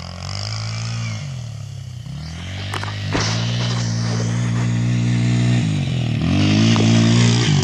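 A Kymco Mongoose 90 ATV engine drones loudly and close, rising and falling in pitch with throttle changes, while the chain rattles and clatters underneath throughout, with a few sharp knocks.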